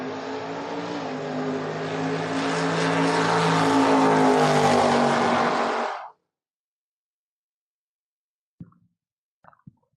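A Chevrolet S10 and a Mustang launch side by side at a drag strip, a loud sustained engine roar rising for about six seconds before cutting off abruptly, followed by near silence and a few faint distant knocks.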